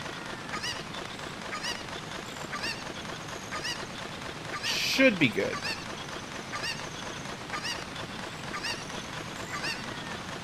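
Chicken clucking in the Zelda Ocarina of Time video game, repeated honking bird calls spaced through the span over a steady background, with a short burst of another sound midway and a brief spoken remark.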